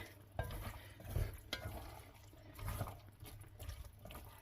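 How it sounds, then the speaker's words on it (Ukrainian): Stewed heart and lungs are stirred in a pot, giving soft wet squelching and scraping with a faint simmering bubble underneath, quiet and close, with no voices. "Отак перемішаємо."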